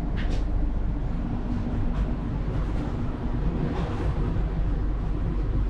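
Steady low rumble and rattle inside an executive-class train carriage in Indonesia as it runs along the rails, a continuous drone with faint clicks and shifting noise on top.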